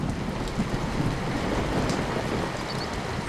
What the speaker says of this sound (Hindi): बारिश तेजी से शुरू हो चुकी थी